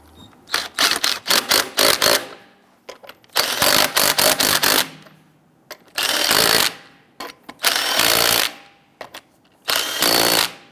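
Lug nuts being snugged onto a Jeep Grand Cherokee wheel with a power tool: several close, loud bursts of rapid impact rattling separated by short pauses, with no talk.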